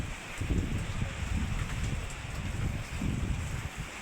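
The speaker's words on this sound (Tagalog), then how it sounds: "Malakas ang hangin." Strong wind gusts roar and buffet the microphone in rainy weather, a continuous broadband rush with swelling pulses and no speech.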